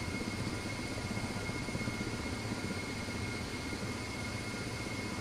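Rotor drone and turbine whine of a KA-50 Black Shark helicopter in the DCS flight simulator, a steady, even engine hum with a thin high tone, holding unchanged throughout.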